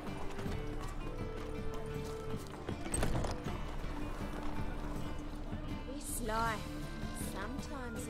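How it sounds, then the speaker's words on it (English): Hooves of a black Nilfgaardian steed in The Witcher 3, a steady clip-clop running under continuous game music and ambience, with a brief snort or whinny near the end. "Nilfgaardian steed."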